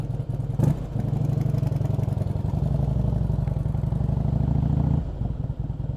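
A motorcycle engine drones steadily throughout on a short ride, a mid-pitched rumble heard close with a brief clatter near the start and a slight drop in level toward the end.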